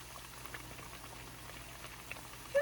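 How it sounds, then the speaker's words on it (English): Old-fashioned doughnuts fry in hot oil in a small RV kitchen, giving a soft, steady bubbling sizzle with faint crackles at a low, even level. "Just listen to that sizzle."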